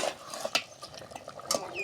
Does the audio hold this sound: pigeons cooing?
no